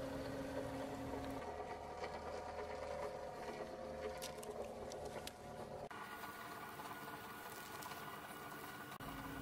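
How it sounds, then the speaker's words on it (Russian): A steady mechanical whir of a dust extractor with a cyclone separator runs continuously, shifting in tone partway through, with faint patter of circular-saw sawdust and no voices. "Проверим теперь с циклоном."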